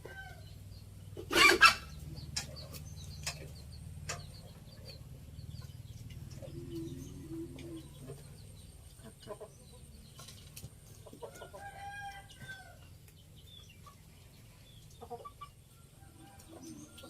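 Hens cluck softly and intermittently nearby, with a sharp clatter early on and quiet rustling outdoors between the calls.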